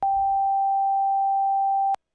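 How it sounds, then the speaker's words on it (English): Steady broadcast-style test tone, a clean single pitch near 1 kHz like an old TV switching on, sounds loud and unbroken for about two seconds before stopping abruptly with a click. "the sound of the broadcast test, like when you first plug in an old TV"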